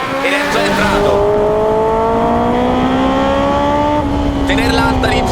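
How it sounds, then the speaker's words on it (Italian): A Honda S2000 with a swapped Striker VTEC engine revs hard on the road, its loud harmonic howl rising steadily in pitch, then briefly dropping and climbing again as the variable valve timing engages; talk runs faintly underneath. "il variatore di fase fa cambiare completamente la musica del motore"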